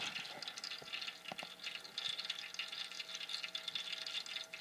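Old oil drains from a Lawnflite lawn tractor engine during its first oil change, a faint, steady trickle of liquid running close by with no other sounds.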